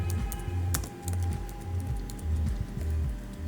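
Someone types code on a computer keyboard in quick, close, irregular clatters of keystrokes, sounding alone against a low steady hum.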